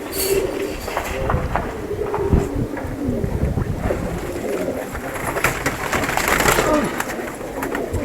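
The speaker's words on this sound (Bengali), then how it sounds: "বাসায় অনেকগুলো কবুতর আছে" Many pigeons cooing in a household loft, the low, burbling coos overlapping continuously against wind noise and background clatter, fairly close, with no voices over them.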